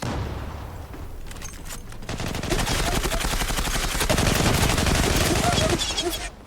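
Rapid automatic gunfire in the online shooter Zula, loud close bursts building into sustained fire for several seconds, with faint background voices.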